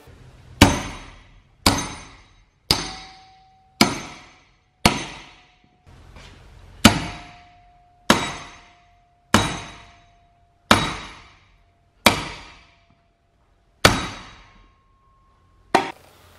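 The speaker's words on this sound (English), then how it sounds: "put them in the vise and see if we can smash them apart" Hammer striking welded steel pieces clamped in a vise, about a dozen loud, sharp metallic blows at slow, uneven intervals, each ringing briefly before the next.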